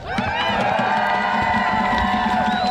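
Outdoor protest crowd cheering and whooping loudly, a dense continuous roar of voices with shouts layered on top, close and sustained throughout.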